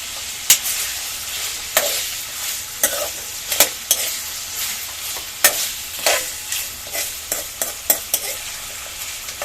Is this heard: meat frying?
yes